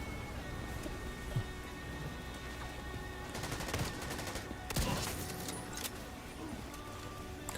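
TAC 50 sniper rifle shots in the video game The Division 2 ring out as a few sharp, loud cracks in the middle stretch, over a steady hiss of rain-like ambient noise.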